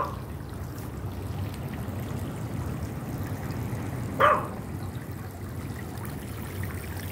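Water sprays steadily from a children's splash mat outdoors in summer, a constant soft hiss filling the whole stretch, with one short, sharper sound breaking through about midway.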